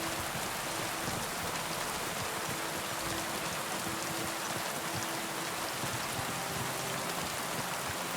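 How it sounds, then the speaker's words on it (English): Steady rain ambience from a video game, a dense, even hiss of falling drops and water with a faint low hum underneath and no distinct thunder claps, with no talking. "the rain coming down, the thunder, lightning in the distance"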